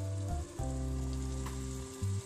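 Boiled chana dal and spinach go into hot oil in a pan for palak dal, giving a soft, steady sizzle and frying hiss that swells briefly, quiet and close, with no voices.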